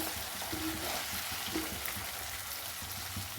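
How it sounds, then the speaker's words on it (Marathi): Onions frying in a pan until brown, a dense continuous sizzle with occasional light scraping, steady and close, with no speech. "आता हे कांद्याला जोपर्यंत चांगला कलर येत नाही ब्राऊन, तोपर्यंत फ्राय करत राहायचं"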